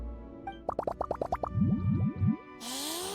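In Genshin Impact, ingredients drop into a drink as a quick run of about eight bright, bubbly plops, then a few lower, springy boings, ending in a brief swirling splash.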